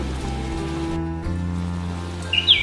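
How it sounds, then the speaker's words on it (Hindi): Steady heavy rain rendered as a story sound effect, a continuous low wash of falling water with a brief lull midway, then sharp bright splashes near the end; no thunder clap stands out and no one speaks. "बिजली चमकी और तेज आवाज के साथ तेज बारिश होने लगी।"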